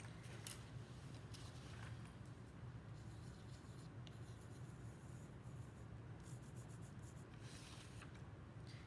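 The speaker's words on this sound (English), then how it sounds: "I'm going to use a pencil to sketch out my ideas on the cardboard" A pencil sketches on cardboard in a steady, faint scratchy rubbing that continues without pause for several seconds, close up and alone.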